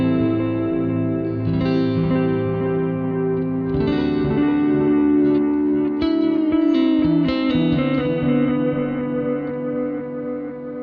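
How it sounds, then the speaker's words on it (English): A warm, dirty bucket-brigade analog delay preset in the Valhalla Delay plugin, dialed toward a Memory Man sound, repeats sustained distorted guitar-like notes and chords with smeared, modulated echoes trailing behind, loud and continuous. "This is a Bucket Brigade device, like a warm analog delay."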